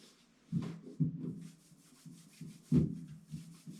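Clay bar rubbed by hand across a carbon fiber car hood during paint prep, a close, soft friction sound with a few louder scrubbing strokes among quieter rubbing passes.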